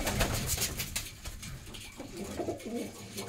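Soft, low pigeon coos repeat a few times against a steady outdoor background hum, close by and moderately quiet.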